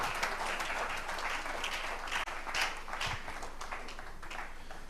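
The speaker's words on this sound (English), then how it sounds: "I believe we can give another resounding round of applause for that." A crowd at a product relaunch celebration gives a resounding round of applause, heard as a steady, fairly faint wash of many hands clapping with a brief dip midway.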